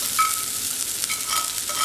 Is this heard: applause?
no